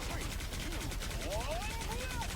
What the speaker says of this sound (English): Blaster barrage